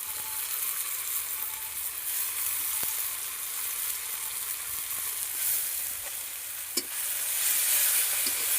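Gima greens hit a hot pan and sizzle steadily while being stirred, a continuous frying hiss with occasional scrapes and clicks of the spoon, no voices.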